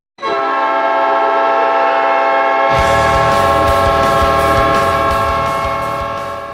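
A loud, sustained hockey goal horn blares like a train horn, then a roaring arena crowd surges in underneath and keeps going as the horn holds.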